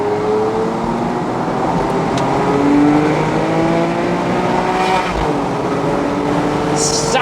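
A Porsche 997.2 C4S cabriolet runs with its engine under load, and the PDK gearbox shifts in sport mode. The close, steady engine note rises and falls in pitch with the changes, and light talk sits underneath.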